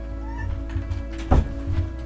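A cat meows near a door after being shut out of a room indoors, a short vocal cry standing out once over a steady low household hum, with faint softer sounds around it.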